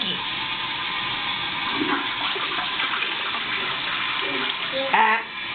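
A household toilet flushes with a steady, close rush of water that holds for several seconds and swells near the end, with faint voices underneath.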